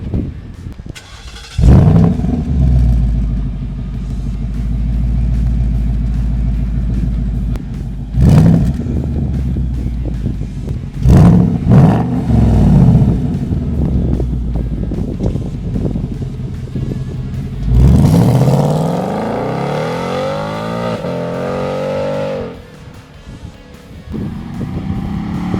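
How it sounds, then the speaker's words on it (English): A 2020 Ford Mustang GT V8 starting with a sharp burst, then idling loud and close with several quick throttle blips and a long roaring rev that winds back down to a deep burbling idle. "Good old-fashioned startup"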